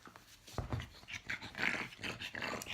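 A pug grunts and snorts close by in a quiet room, with a short burst of low rumbling grunts followed by softer snuffly breaths and whimpery noises.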